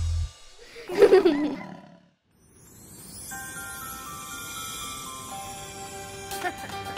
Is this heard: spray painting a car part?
no